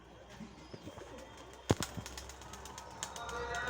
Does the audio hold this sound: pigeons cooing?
yes